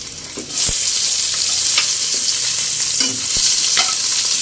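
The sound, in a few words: sautéing onion in a pan for ginataang suso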